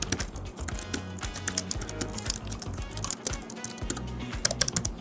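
Rapid, uneven clatter of laptop keys being typed on, close up, with a continuous patter of light taps and no voices.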